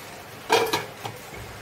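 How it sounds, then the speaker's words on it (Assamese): Lentil fritters (pakora) drop into a pot of boiling dal with a couple of quick clatters and splashes close by, followed by one lighter tap against the pot before the sound quiets. "এতিয়া পকৰাখিনি দি দিম।"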